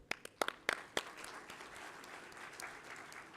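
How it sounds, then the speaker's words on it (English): Conference audience applause at a dental sciences event, starting with a few sharp individual claps and settling into faint, soft clapping from a distance. "Please put a big round of applause."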